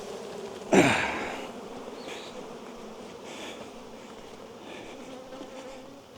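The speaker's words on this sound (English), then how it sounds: "who knew that this was going to make the bees this angry?" A dense swarm of angry honey bees buzzes continuously, with a sharp loud burst near the start before settling into a steady agitated hum.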